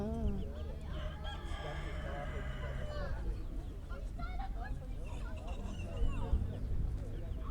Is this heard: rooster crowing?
yes